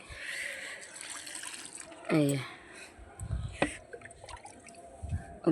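Oil-cake water poured in small amounts onto potato plants in a garden, quiet trickles and splashes in short separate bursts under a person speaking.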